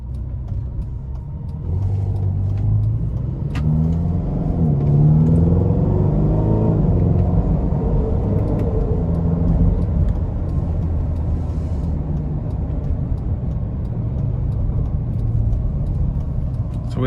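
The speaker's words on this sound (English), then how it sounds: "we're gonna go ahead and take this California out on the road for a quick test drive" A 2015 Ferrari California T driving on the road, its engine rumbling steadily and loudly from inside the cabin, with a brief rise in revs early on and continuous road noise throughout.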